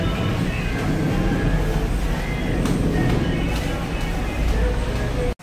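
LRT light rail train at Anonas Station: a loud, continuous broadband rumble and rush, steady throughout, ending abruptly.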